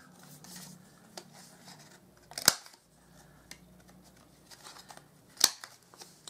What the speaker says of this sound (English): I'm just rounding off all of the corners.